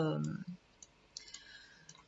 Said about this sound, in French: dès que je finis, je clique sur le curseur